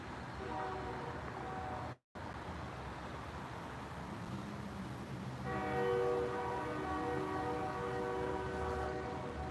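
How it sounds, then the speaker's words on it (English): A train horn blares from some distance over a steady low rail rumble, starting partway through and holding a sustained multi-tone chord to the end, with a brief dropout just before. "The train horn's going off again"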